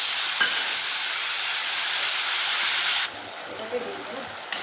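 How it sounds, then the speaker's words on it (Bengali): Tomato paste frying in hot oil for a mustard-poppy pabda fish curry, giving a steady broadband sizzle that runs loud and unbroken, then drops quieter partway through with a few faint clinks and stirring sounds. "টমেটোটা ভালোভাবে ভেজে নেব।"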